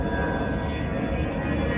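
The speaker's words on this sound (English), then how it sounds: "I gotta listen to these stupid fucking airplanes every goddamn time" Aircraft flying over Chiang Mai, a steady broadband roar of engines that stays loud and even throughout with no voices.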